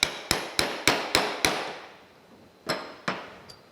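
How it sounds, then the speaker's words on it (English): A hammer strikes a punch against a steel pin held on a bench block, making six sharp metallic taps in quick succession, then a pause and three more lighter blows, close and ringing. "And we'll take a hammer."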